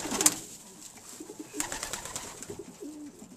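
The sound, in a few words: silver pigeon cooing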